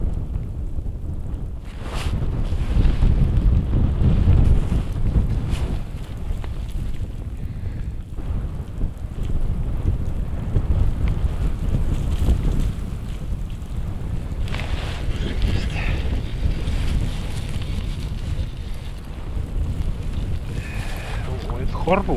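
Blizzard wind sweeps across a frozen lake during winter ice fishing for perch, loud gusty buffeting roaring into the microphone and swelling and easing throughout, with occasional voices faintly under it.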